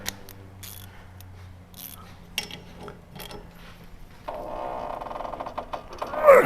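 A wrench tightens the rear brake caliper bolt on a Spec Miata, giving clicking ratchet and metallic mechanical noises close by, followed by a louder steadier mechanical whir near the end.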